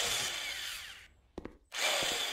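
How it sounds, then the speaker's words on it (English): A power drill whirs loudly while repairing something in Cafe Owner Simulator, stops, gives two short clicks, then whirs again briefly. "Let's get the drill out."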